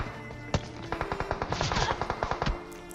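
Video game gunfire from an enemy player: a sharp opening shot, then a rapid rattling burst of automatic fire lasting over a second, loud and close with echoing tails.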